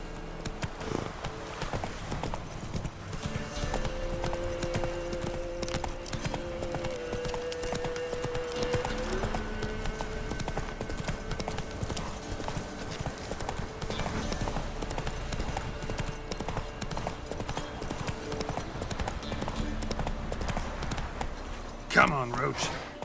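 Roach the horse galloping in The Witcher 3, a steady run of hoofbeats under game music and a voice, with a louder sharp sound near the end.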